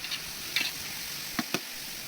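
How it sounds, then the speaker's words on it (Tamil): Ginger garlic paste sautéing in a pan for mutton dum biryani gives a steady soft sizzle with a few brief stirring clicks and scrapes, close and fairly quiet. "இஞ்சி பூண்டு பேஸ்ட்டு போட்டு நல்லா வதக்கிட்டு"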